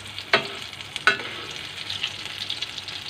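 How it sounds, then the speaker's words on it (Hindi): Fish shami kabab frying on a hot tawa, a steady close sizzle throughout with two sharp scraping clicks near the start as the kababs are turned. "इसको बस हमने फ्राई करना है"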